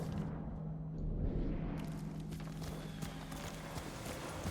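Horse hooves galloping in the Ghost of Tsushima video game, a steady rapid clatter of hoofbeats over a low continuous rumble, moderately loud and without speech.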